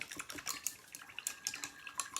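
Tap water running into a sink while an item is washed for a Dollar Tree Christmas sign craft, a steady close splashing and trickling with small irregular bursts throughout.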